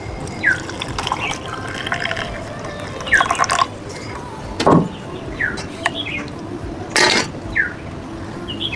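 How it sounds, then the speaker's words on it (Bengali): Freshly boiled tea is strained and poured at home in short, intermittent trickles and drips, broken by a few brief louder splashes and light clinks against quiet room noise. "এবার চাটা ছেঁকে নেব"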